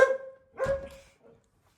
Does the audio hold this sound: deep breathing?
no